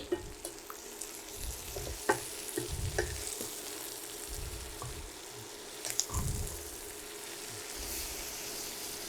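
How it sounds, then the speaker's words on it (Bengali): Thinly sliced bitter gourd and onion fry on high heat in a pan with salt, a constant sizzle broken by repeated scraping stirs and low thumps of the spatula, fairly close and with no talking. "একটু হাই হিটে এটাকে ভাজি করে নিতে হবে"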